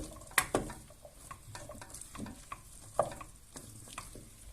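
Chopped zucchini sautés in a pot with a quiet sizzle, broken by sharp spoon knocks and scrapes against the metal as it is stirred.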